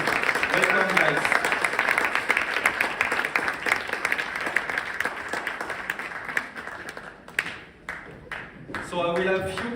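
Audience applause welcomes panelists onto a stage at a compensation plan panel event, a dense steady clapping that fades and thins toward the end before a voice picks up.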